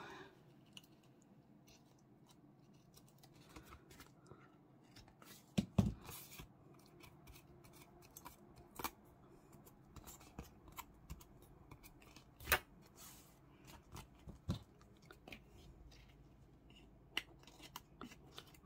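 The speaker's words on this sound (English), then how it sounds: "Trim that with the scissors." Scissors trimming paper for a junk journal folio made from a book cover, a series of quiet, close snips and clicks spaced irregularly over a soft background, with no talking.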